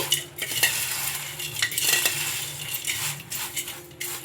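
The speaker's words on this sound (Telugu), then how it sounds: "మసాలాలన్నీ వేసుకున్న తర్వాత ఇంకా ఇలా స్పూన్తోటి బాగా కలుపుకోవాలి." A spoon mixing spiced sago snack in a bowl, irregular scraping and clinking strokes with soft crunchy rustles, close and fairly quiet, no voices.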